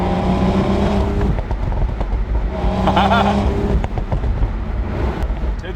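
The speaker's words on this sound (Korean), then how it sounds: "엔진은 엄청 부드러운데 배기 시스템을 통해서 약간의 바리톤 성향도 섞어 놓았기 때문에 스포츠 드라이빙을 할 때 감성이 올라갈 수밖에 없죠" A BMW Z4 or Toyota Supra engine and exhaust drone loudly from close by while driving, a smooth, deep tone rising and falling with throttle, with a brief sharper burst midway.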